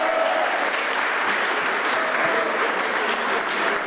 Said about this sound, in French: Merci de les applaudir, 1000 fois ils le méritent.